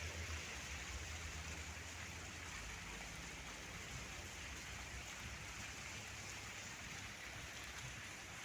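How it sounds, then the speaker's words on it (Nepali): Heavy rain coming down on city streets in the UAE, a constant dense wash of water noise with a low rumble, steady throughout and without voices. "पानी परेर यहाँ बिजोग छ है"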